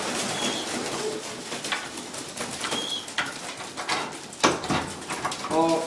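Breeding pigeons in a loft box coo repeatedly and close by, with soft rustles and a few wing flutters, while someone talks over them.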